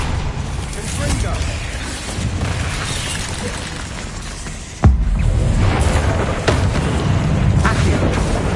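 A Confringo fire spell blasts in Hogwarts Legacy, a sharp boom bursting out amid ongoing spell combat rumble, with a voice shouting spell names throughout.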